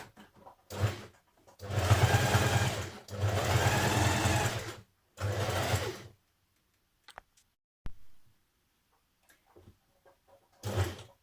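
A sewing machine understitches a coat pocket seam on an unlined coat in four close, loud runs of rapid stitching separated by pauses, followed by a few faint clicks and handling sounds.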